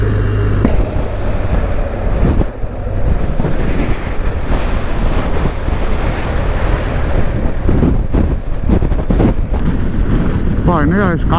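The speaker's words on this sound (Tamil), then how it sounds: "என்ன காற்று இப்படி அடிக்குதுங்க" Strong wind buffets the microphone in Calais, France, a continuous loud roar of gusts mixed with surf-like noise throughout.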